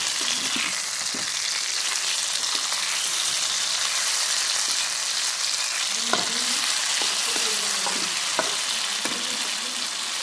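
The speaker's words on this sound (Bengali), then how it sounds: "এটা আরেক সাইড ভাজা হবে একটু একটু কড়া।" Masala fish fries in a wok, the other side crisping: a steady, loud hiss of hot oil runs throughout, with a few quiet scrapes and taps of a spatula partway through, close up and with no talking.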